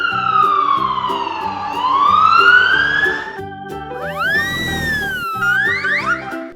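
A toy police car siren wails loudly and electronically, sweeping down then up in long tones before switching to a faster rising yelp, over a steady beeping electronic backing with no speech.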